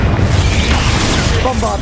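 Confringo fire-blasting spell going off in Hogwarts Legacy, a dense booming blast filling the whole short moment with rumbling low end and crackle, sustained and loud with faint talk mixed under it.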